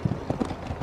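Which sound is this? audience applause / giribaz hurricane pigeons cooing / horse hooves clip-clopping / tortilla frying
horse hooves clip-clopping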